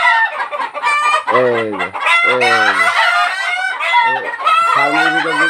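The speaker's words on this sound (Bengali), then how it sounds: "ফার্মের ভিতর যদি কেউ আসে তাহলে মুরগি এভাবেই ইয়ে করে" Egyptian Fayoumi hens on a farm cluck and squawk loudly and close by, a busy, agitated chorus of overlapping calls with a brief spoken word in between.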